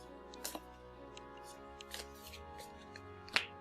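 Cards drawn in the digital board game King Down, heard as a few soft, quick card swishes and clicks spaced over a steady tonal music bed.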